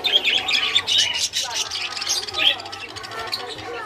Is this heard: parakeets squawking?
yes